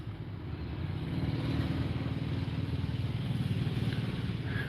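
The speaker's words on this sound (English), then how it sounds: "You can hear that guy just rolled by on some little raggedy scooter." A small, raggedy scooter rolling by: a buzzing, rattly small engine putter that swells as it passes fairly close, steady throughout without speech.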